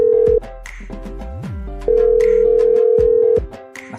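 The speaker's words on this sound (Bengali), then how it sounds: "আমি ফোন দিচ্ছি খালাকে।" Telephone call tone heard while a call is being placed: a long steady electronic tone, a break with other sounds, then a second long tone, loud and close.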